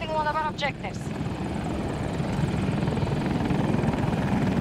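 Steady video game helicopter rotor thrum fills the clip, loud and continuous, with a couple of brief whooshing sweeps near the start.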